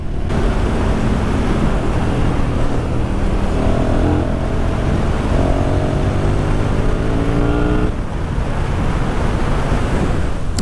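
A KTM 1290 Super Duke R motorcycle engine accelerates hard, loud and close, its pitch climbing through gears with a brief drop near the end, over steady wind rush.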